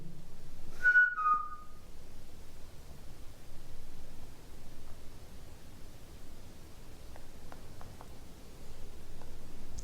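During a ghost hunt, a single short high whistle sounds near the start, followed by a quiet hissing room and a few faint ticks.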